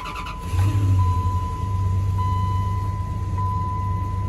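A 12 valve Cummins diesel engine fitted with a CAT turbo cranks and starts up, then settles into a steady low idle rumble accompanied by a constant high whine.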